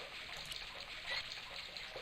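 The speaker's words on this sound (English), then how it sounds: "I held the towel under the faucet and soaked it with water." Water from an old faucet runs onto a towel held beneath it in Broken Sword, a short, constant splashing flow with a faint swell near the middle.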